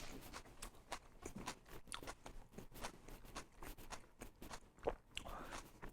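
Biting and chewing a raw vegan mushroom taco with kimchi and cheese sauce, a string of soft crunches and wet chewing sounds, close but faint.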